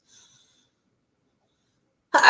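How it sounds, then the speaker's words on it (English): A single short, loud human sneeze bursts out abruptly at the end after near silence, with only a faint trace of voice at the very start. "I'm going to sneeze, excuse me."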